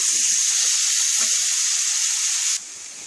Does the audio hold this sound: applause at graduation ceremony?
no